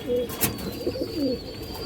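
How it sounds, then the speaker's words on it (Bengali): A pigeon coos close by in a short burst of low, throaty notes, with a faint steady whine in the background. "খুবই চঞ্চল কবুতর"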